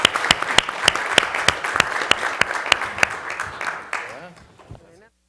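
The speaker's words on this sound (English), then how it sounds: "Let's give an applause to this panel." Audience applause for a panel at an education and employment event, a burst of distinct sharp claps that thins out and fades to silence after about five seconds.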